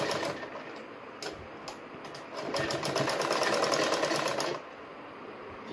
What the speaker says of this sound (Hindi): ये देखिए इस तरीके से दोनों साइड से मोड़ लीजिए और सिलाई कर लीजिए।